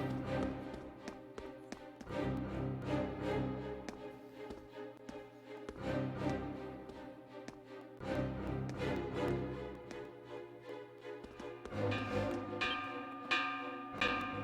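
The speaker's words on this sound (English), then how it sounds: "That sound. It's a warning bell." A warning bell clangs in the video game Ys IX: Monstrum Nox, with repeated metallic strikes in a steady rhythm over a bed of game music, and no voices.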